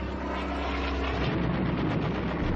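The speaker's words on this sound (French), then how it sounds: "la voiture de Rommel est prise pour cible par un avion de chasse britannique." A British fighter plane attacking Rommel's car gives a loud, dense engine roar that drones steadily throughout, with rapid faint crackles that may be gunfire.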